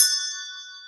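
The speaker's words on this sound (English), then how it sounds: "where the hell did you steal all those desk bells from?" A single bright ring from a metal desk bell, struck once and sharply, then fading away with a clear lingering tone over about a second.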